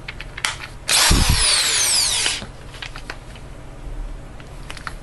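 A power drill whirs loudly for about a second and a half, boring into the small primer pocket of a stuck rifle cartridge case held in a sizing die, between quieter handling clicks.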